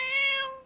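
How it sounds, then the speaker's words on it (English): A domestic cat gives a single clear, drawn-out meow, close and loud, with no talking over it. "A cat, of course."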